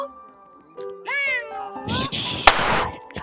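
A drawn-out, wavering meow, probably a voice imitating a cat, rises and bends in pitch, followed by a burst of breathy noise and a sharp thunk close to the microphone.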